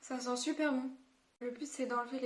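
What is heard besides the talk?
No everyday noise stands out behind the speech.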